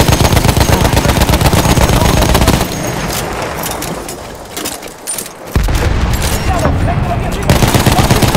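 Heavy, sustained gunfire from Battlefield 1 on PC, loud bursts of automatic fire and explosions that thin out midway before resuming at full intensity, with no talk.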